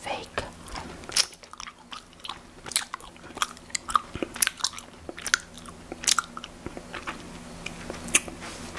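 Close, wet chewing and biting of Warheads Chewy Cubes sour candy, with irregular sticky crunches and squishes throughout and no talking.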